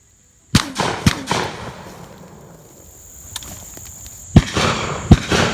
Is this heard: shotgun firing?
yes